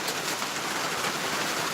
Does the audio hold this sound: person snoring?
no